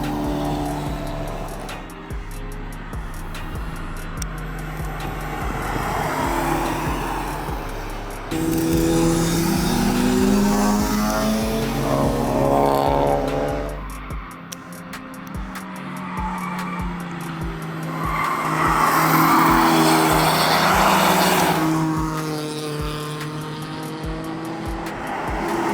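Cars, including Hondas and Porsches, race around the Nürburgring track, engines roaring loudly as they pass, with rising and falling revs, gear changes and tire squeal across several passes.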